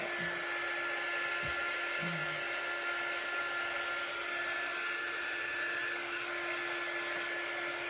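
A dryer blows steadily on a craft project, a loud constant whirring hum with a high whine that holds unbroken throughout, with a couple of faint low thumps near the start.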